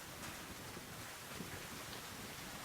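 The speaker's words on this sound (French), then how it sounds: "De la pluie, on va laver les cheveux de Jack." Steady rain in the video game Mass Effect 2, a dense, even hiss of falling water filling the scene without pause, moderately loud and unbroken.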